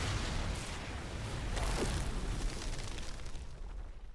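A loud explosion in a video game, a broad rumbling blast that swells and lingers for several seconds before fading, with no voices over it.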